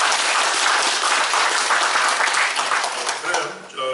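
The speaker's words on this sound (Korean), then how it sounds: "두 분께 먼저 박수 한번 부탁드리겠습니다" A seminar audience applauds, steady dense clapping filling the room before it tapers off near the end.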